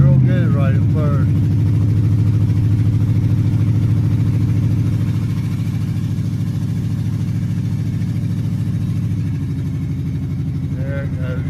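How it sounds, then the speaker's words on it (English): A 1998 white truck low on fuel idles unevenly, its engine rumbling steadily and close while the note wavers and sags partway through, with a voice briefly audible at the start and again at the end. "There it goes, starting to act up, not running right."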